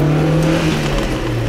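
A car engine in first gear holds high revs with a steady droning tone, then drops as the driver shifts into second; loud and close throughout, with no talk.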